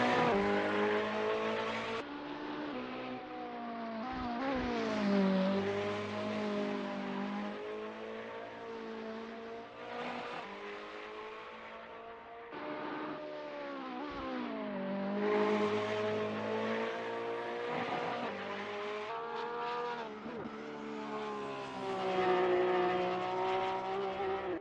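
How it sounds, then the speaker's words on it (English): A Ferrari 488 GT3 screams through the gears in a racing video game at Monza, its engine note rising and dropping repeatedly through shifts and braking zones, loud and continuous with no talking. "driving a Ferrari 488 GT3"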